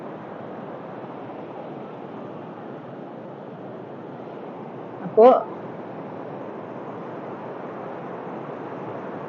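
Sea surf floods across a driving beach, a steady close rushing roar mixed with wind buffeting the microphone, and a voice speaks one brief word midway.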